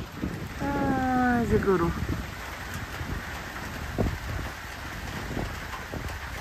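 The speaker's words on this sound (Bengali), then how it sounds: "ওই যে দেখেন বৃষ্টি নামছে" Steady rain falls on a rural homestead on a rainy day, a soft continuous hiss with a brief drawn-out animal call early on and faint scattered voices.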